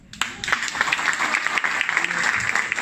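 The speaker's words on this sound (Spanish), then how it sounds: "¡Aplausos!" At a corporate event marking G-Shock's 35th anniversary, the audience breaks into applause that rises quickly after a brief pause. The clapping then holds as a steady, fairly loud patter of many hands.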